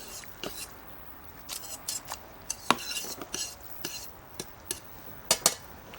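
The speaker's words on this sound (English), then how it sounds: "And gently mix with the sauce." Spaghetti is gently mixed with tomato sauce in a pan, giving soft, irregular scraping and clinking of utensils against metal, close and fairly quiet, with scattered sharper knocks.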